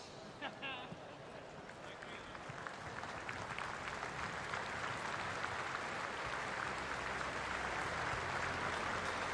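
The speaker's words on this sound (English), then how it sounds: "we ask if you are able to please stand for a moment of applause for Rado Vidosic" Stadium crowd at an A-League football match between Newcastle Jets and Brisbane Roar stands and applauds in tribute, a broad steady wash of clapping that swells and holds, heard from a distance.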